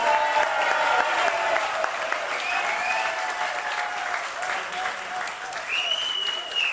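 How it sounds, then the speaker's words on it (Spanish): Steady, loud applause from a crowd fills the whole stretch, with some cheering and voices over the clapping. "Fuerte el aplauso para ella."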